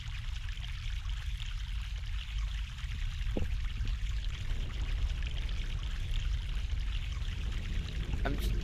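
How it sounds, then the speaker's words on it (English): Fresh mountain water pours steadily in The Longest Journey video game, a continuous close splashing stream holding at an even level throughout with a couple of faint clinks near the start and end. "Fresh mountain water."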